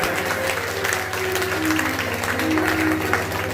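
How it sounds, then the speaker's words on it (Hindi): An audience claps continuously and fairly loudly at a devotional Nani Bai ka Mayra program held by a women's group, the applause steady throughout with faint tonal sounds mixed in. "ताली बजानी चाहिए।"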